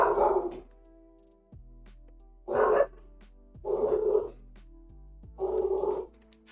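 Barks from a dog in the Rupee Rush minigame of Zelda: Ocarina of Time, four loud evenly spaced woofs rising over a quiet melodic chiptune-style game soundtrack.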